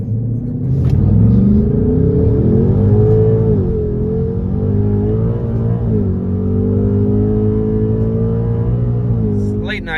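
A 2024 Ford Mustang GT Premium V8 rumbling close and loud, its engine rising and falling through a few revs over a steady idle, with a brief sharp sound near the start and end.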